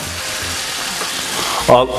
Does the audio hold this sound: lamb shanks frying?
yes